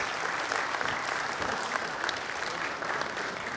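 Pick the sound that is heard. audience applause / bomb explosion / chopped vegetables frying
audience applause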